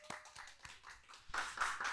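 Faint applause from a seminar audience welcoming a speaker: scattered hand claps with a few separate claps first, then denser clapping toward the end.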